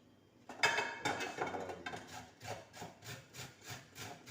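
Carrot being chopped or grated for frying with saltfish, a series of woody scraping strokes settling into a steady repeating rhythm, close and moderately loud with no talking.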